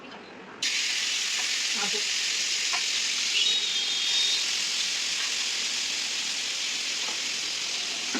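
Chicken fries in a pan with a sudden loud hissing sizzle that starts as it hits the oil and holds steady, with faint stirring clicks underneath.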